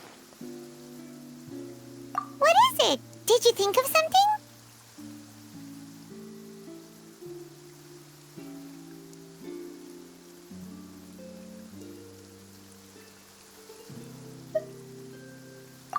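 Steady rain falls in Genshin Impact, a soft hiss beneath gentle game music, with a brief burst of bright chiming tones early on and a voice speaking a short line.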